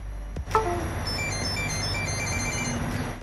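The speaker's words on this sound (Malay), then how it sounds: "Apabila sudah selesai, kita akan mendengar bunyi buzzer seperti ini." A short series of electronic buzzer tones from a Pixhawk drone flight controller rebooting after a firmware upload, clear rising beeps after a click, followed by a steady hum.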